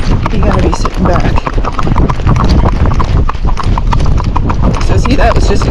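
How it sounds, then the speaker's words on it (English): Loud, close hoofbeats of a gaited Rocky Mountain horse breaking into a canter step, a steady run of rhythmic clip-clops packed densely through the whole stretch. "So see, that was just a canter step."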